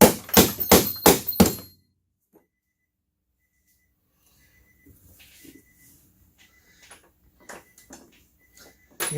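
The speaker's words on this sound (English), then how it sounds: "I may just use the ball end of the hammer" Four quick, loud metallic knocks from the ball end of a hammer striking a 2008 Nissan Altima engine around the valve cover, followed by near silence and a few faint clinks and handling noises.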